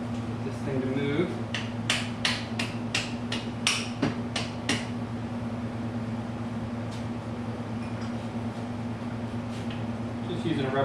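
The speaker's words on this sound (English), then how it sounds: "Just using a rubber mallet, little punch." Rubber mallet knocking a small punch against a stubborn rear engine bolt during a Honda CB550 motorcycle teardown, about a dozen sharp strikes in a quick series over a steady background hum, then quieter taps later, with talk heard.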